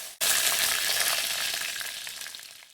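Curry leaves spluttering in hot oil with fenugreek and cumin seeds for a South Indian pomfret fish curry, a sudden loud sizzle that crackles steadily and slowly fades over a few seconds.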